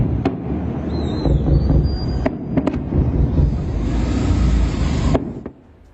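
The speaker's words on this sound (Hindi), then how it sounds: "अब आवाज सुन पा रहे हैं धमाके की।" Explosions from a drone attack in India heard at a distance, a few dull booms and sharp cracks over a continuous rumbling roar that cuts off abruptly near the end.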